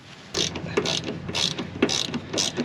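Hand ratchet clicking in repeated short bursts while tightening 10 mm bolts on STILLEN side skirts for a Nissan 370Z, close and fairly loud, with brief pauses between strokes.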